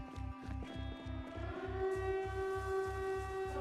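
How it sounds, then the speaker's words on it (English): A wailing siren in the Project Zomboid video game sounds over a steady, rapidly pulsing low drone, its tone rising and holding loud and continuous throughout. "That siren is going to scare the ever-loving daylights out of me every time it procs"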